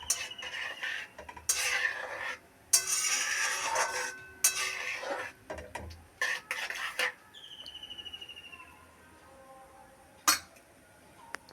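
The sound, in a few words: stirring vermicelli in milk in a pot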